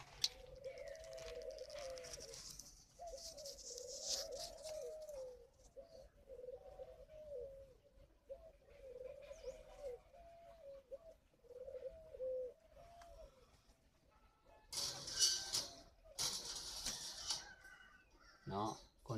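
Spotted doves at a breeding farm coo in repeated soft, low phrases, fairly close, with brief rustles and clicks near the end and no voices heard.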